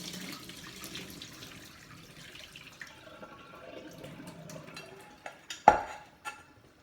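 Blanched vegetables are drained, water pouring and splashing into a sink for a few seconds, then fading as pots and utensils clatter, with one sharp metallic knock near the end.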